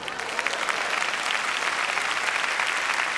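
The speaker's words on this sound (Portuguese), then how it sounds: "Vamos dar a ele um aplauso." A church congregation bursts into loud, continuous applause, a dense wash of clapping that holds steady for a few seconds.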